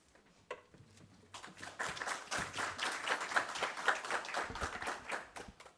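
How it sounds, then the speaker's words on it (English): An audience applauds at a community peace-week event: a few scattered claps at first, then dense, even clapping from a crowd of moderate size that holds steady for several seconds at a modest distance. "I'm monitoring your applause to see if it's equal when I sit down."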